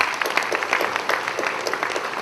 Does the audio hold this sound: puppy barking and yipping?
no